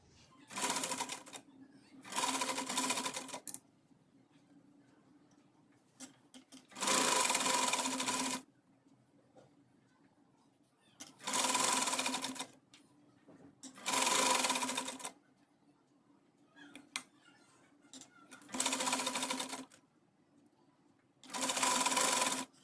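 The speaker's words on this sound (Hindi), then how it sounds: "अब जहाँ पे हमने ये मार्किंग की है वहाँ पे इस तरह से रखते हुए हम इसे दोनों साइड से सिलाई लगा लेंगे।" A sewing machine stitches along both sides of a trouser bottom strip in repeated bursts of about a second or two, separated by short quiet pauses while the fabric is repositioned.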